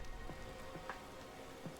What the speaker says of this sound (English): the race is starting off with rain